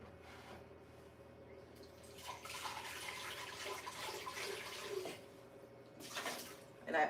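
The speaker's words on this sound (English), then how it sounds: "And I always rinse everything." Running water from a kitchen tap rinses burrito casserole ingredients, a steady hiss and splash that swells and fades in bursts, fairly quiet with a faint hum underneath.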